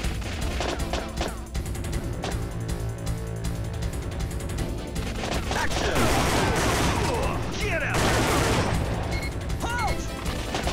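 Gunfire in the PS1 game Time Crisis: dense, rapid volleys of shots and impacts crackle continuously over a busy game soundtrack, loud and close.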